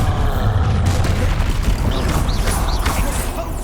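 Bombarda explosion spell in Hogwarts Legacy during a troll fight, a loud sustained booming blast with crackling bursts and mechanical clatter layered over it, continuous and close.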